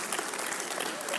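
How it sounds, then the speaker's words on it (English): A short burst of dense, steady audience clapping from a church congregation during a sermon, even and somewhat distant. "if you're gonna clap, you gotta commit"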